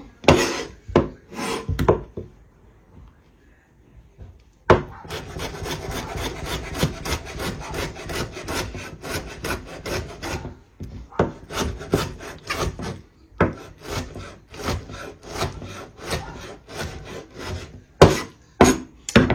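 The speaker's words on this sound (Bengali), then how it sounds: "আমি সবগুলো এক এক করে ছোট করে কেটে নিই।" Knife chopping salad vegetables (tomato, cucumber, onion, lemon, green chilli and coriander) on a wooden board, steady rapid close cuts in bursts with brief pauses between.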